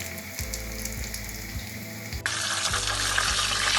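Paçanga börek pastries fry steadily in hot oil, a continuous close hiss and sizzle that grows noticeably louder and brighter partway through, with faint soft knocks underneath and no talking.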